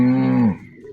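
A single loud, close cow moo from a village herd in Africa, a steady low drawn-out call lasting about half a second before fading into quiet.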